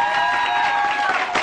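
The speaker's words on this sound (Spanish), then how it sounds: "Gracias, aplausos." Studio audience on a TV variety show applauding and cheering a singer, a short dense burst of clapping with crowd noise and a sustained tone underneath.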